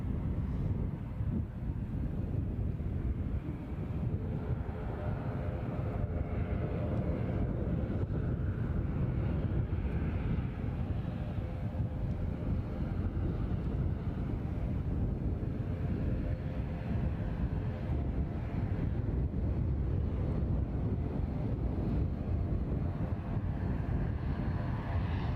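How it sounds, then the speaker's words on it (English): Distant Aer Lingus ATR turboprop engine drones as a low, steady rumble, with wind buffeting the microphone at an airport. "And I can hear an ATR strumming away."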